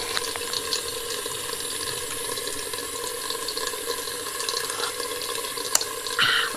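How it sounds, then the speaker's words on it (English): Steady water pours into a homemade funnel, making an even, close hissing trickle throughout, with a few faint clicks and a small splash near the end. "Filling it with water."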